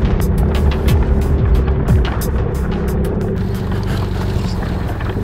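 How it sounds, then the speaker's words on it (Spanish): An off-road motorcycle engine runs steadily close by, a loud continuous rumble with a little wind buffeting over the top. "hay que dejar correr un poquito la moto."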